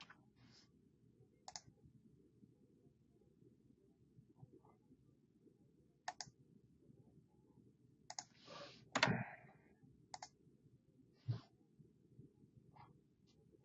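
A computer keyboard is typed on in short, sparse bursts of soft clicks separated by quiet pauses, with a slightly busier cluster midway. The keys sound close but faint.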